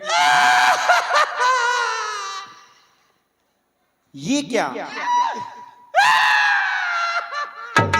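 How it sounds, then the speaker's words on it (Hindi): A woman wails and cries loudly on stage during an outdoor Ramlila performance in Vrindavan. The sustained, piercing cry opens the scene, falls silent, then returns loud and sobbing among spoken dialogue. "नारी की रोने की आवाज, और ये आवाज तो मेरी दासी मंत्रा की जैसे लग रही है।"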